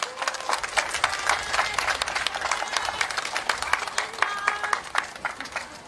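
Close, continuous clapping from an audience at a street election rally in Japan, a dense crowd applause that holds steady throughout with faint voices mixed in.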